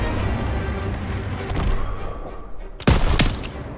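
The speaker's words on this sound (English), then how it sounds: "Daniels, hit that MG" Gunfire in Call of Duty WWII during a battle in a town square, a dense rumbling fusillade of distant shots followed by two sharp, loud cracks near the end.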